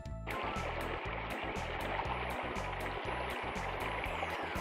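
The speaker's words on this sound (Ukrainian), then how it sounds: "Так, це дзюрчать весняні струмочки." Babbling spring streams, a continuous close gurgling and trickling of running water with a steady rushing texture, accompanied by a low rhythmic thumping pattern underneath throughout.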